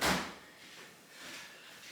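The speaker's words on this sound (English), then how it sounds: "Open this door" A door opens in a hot, humid room during plumbing work: a short knock-like burst at the start, then quiet room noise, with no talk.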